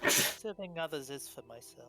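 A sharp, noisy sneeze bursts out at the start, then a person immediately carries on talking, during a Dungeons & Dragons tabletop game session.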